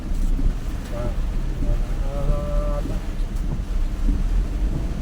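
Storm wind gusts and roars against the microphone in a steady, loud rush, with faint tonal whines drifting through the middle and no clear speech.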